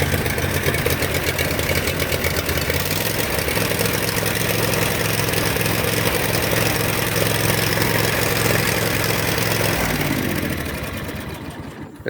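A lawn mower engine, fitted with a muffler taken from another mower, runs at a steady rattling idle, loud and close, then its sound dies away in the last couple of seconds.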